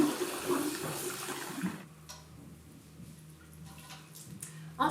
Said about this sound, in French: on rince bien la prothèse, intérieure et extérieure, pour enlever le reste du soin